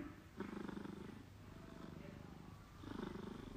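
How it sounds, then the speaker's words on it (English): Fibo, a sleeping pet cat, purrs in a low steady rumble that swells and fades with each breath, close and soft, with a human voice murmuring faintly over it. "See his purring."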